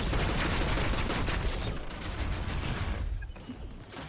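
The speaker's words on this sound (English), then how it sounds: "Use the mortar cannon on slow-moving targets to deal heavy damage at range." A mortar cannon fires in the video game Evolve, dense rapid blasts in a sustained barrage for the first couple of seconds, then thinner bursts with metallic clicks near the end.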